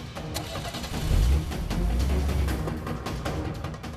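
A car engine turns over and revs up, swelling to a low rumble after a second and then holding steady as the vehicle pulls away, fairly close and without talk.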